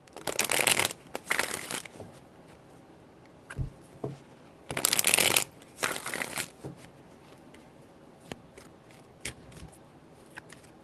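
Tarot cards are shuffled by hand in several quick, crisp riffling bursts, close and clear, separated by short pauses and a few soft taps.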